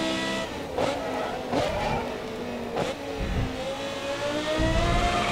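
A race car in the racing game Grid Autosport screams at full throttle, engine revving high with gear shifts and a brief tire skid, loud and continuous.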